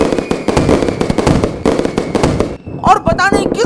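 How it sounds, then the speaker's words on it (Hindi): Strings of small red firecrackers burst in rapid crackling volleys during a wedding procession, a loud dense rattle of pops with brief gaps, followed by sharper scattered bangs. "छोटे छोटे लाल पटाखे उनके चारों तरफ फटे"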